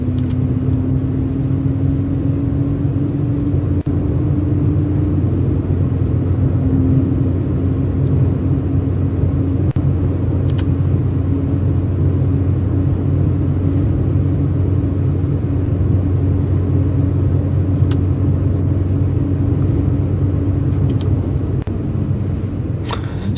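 A Ford Maverick lowrider build in the Roblox video game runs at maximum speed, a steady, loud engine drone with a constant tonal whine that holds without a break, with no talk.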